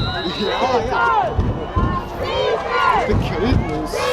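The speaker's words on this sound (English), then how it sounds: "Crowd calling for some defense by the Red Devils." A football crowd at a Red Devils versus Pirates game roars and calls out for defense, a dense wash of many voices with rising, chant-like shouts that stays loud and steady throughout.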